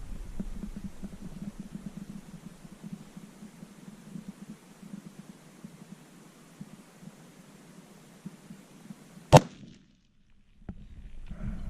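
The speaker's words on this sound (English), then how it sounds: "So this will be the second shot out of the gun." .338 Lapua rifle firing a single shot outdoors: one sharp, loud crack cutting through a low steady background hum, followed by a brief dropout and faint ambience.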